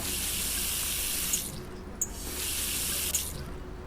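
Tap water runs steadily into a sink as cooking utensils are left to soak, a close hissing stream with a few small drips and clinks.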